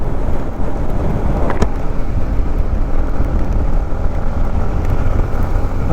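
A modified Yamaha MT-15 motorcycle accelerates on a ride near Chennai, its engine a loud, steady roar mixed with heavy wind buffeting.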